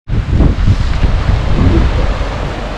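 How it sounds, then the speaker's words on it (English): A large waterfall at Nikko, Japan, roars as a loud, steady wash of broadband rushing water, close and constant with no pauses. "That waterfall's pretty amazing."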